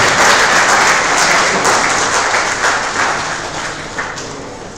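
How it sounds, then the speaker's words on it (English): A loud, steady wash of audience applause that slowly fades toward the end, with no voices over it. "A big round of applause for our chief guest."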